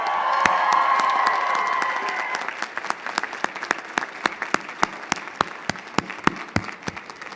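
A commencement crowd cheers and applauds mothers at an undergraduate graduation ceremony, a loud swell of cheering and clapping that fades into scattered, distinct claps ringing out in a large hall.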